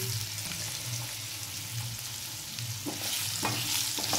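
Potatoes frying in a pan with dried chilli, stirred with a utensil: a close, steady sizzle with scraping stirs that grow busier toward the end, no talking.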